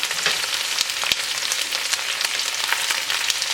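Onion and spring onion fry in a pan with a dense, steady crackling sizzle and occasional stirring scrapes, loud and close throughout.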